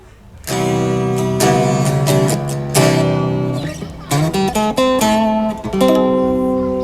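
Clean electric guitar through a TANK-G multi-effects unit with clean reverb plays chords and picked notes that ring out with a spacious reverb tail, played steadily and loudly without any talking.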